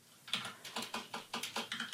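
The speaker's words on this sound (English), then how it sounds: "I'm typing off camera" Keys clatter on a computer keyboard in a quick, uneven run of about nine light, close taps, with no voices over them.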